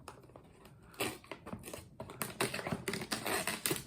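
Packing tape pulled off a roll while closing a small cardboard shipping box for trading cards: a run of dry, crackling rips and tearing bursts that grow louder and denser toward the end, close up, with no talking.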